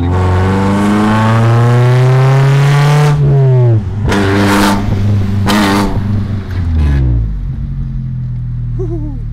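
A BMW E36 on a drive through town, its engine loud and close, droning at a steady rising pitch, then dropping sharply with a few quick throttle blips before easing into a lower steady hum.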